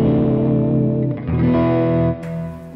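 An electric guitar played through a Mesa Dual Rectifier on its orange channel at low gain rings out in sustained, mildly distorted chords that change twice, ending with a brighter strum, loud and alone.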